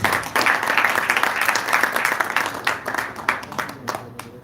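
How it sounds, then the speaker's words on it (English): Audience at a summit of Somali CEOs applauds the panelists, a dense, steady round of clapping from a sizeable crowd that carries on for several seconds, loud and continuous. "And I need a big round of applause for my panelists, the C.E.Os."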